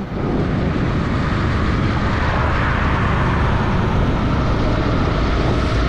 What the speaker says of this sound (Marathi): आपण जरा गाडी पळवू आता